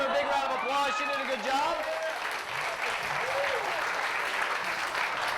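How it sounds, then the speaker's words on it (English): Audience applauding at an all-night graduation party, a loud sustained burst of clapping from a crowd, with a voice talking over the start of it. "Let's give her a big round of applause."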